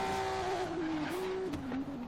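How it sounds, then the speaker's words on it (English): A tuned Volvo S60 in Forza Horizon 3 holds a loud, steady engine drone at the start of a first-gear launch, the pitch wavering slightly before dipping near the end of the brief burst. "we're gonna do a first gear launch"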